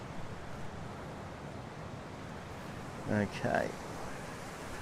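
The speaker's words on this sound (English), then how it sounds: "Wow, listen to that wind. That is just kicked up." Strong wind rushes steadily outdoors ahead of an approaching storm, a broad continuous roar with a short spoken word partway through.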